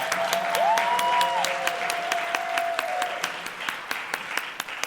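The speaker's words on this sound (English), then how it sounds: "Give yourselves a round of applause." Luncheon crowd applauds with scattered, moderately loud claps over a soft murmur, while a brief whistle-like tone rises and holds near the start, and the clapping thins out toward the end.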